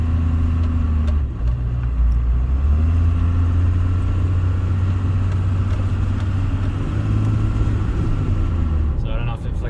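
A 1st Gen Cummins diesel engine runs under load with a deep, steady, loud rumble that holds throughout, easing slightly near the end.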